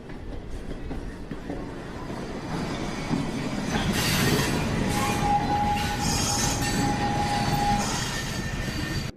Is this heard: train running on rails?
yes